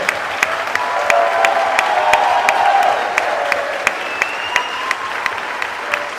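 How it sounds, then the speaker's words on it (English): A cruise ship crowd applauds and cheers for war veterans, with sustained clapping, loud sharp individual claps punctuating it at a regular pace, and a few whoops rising over the noise. "Big cheer!"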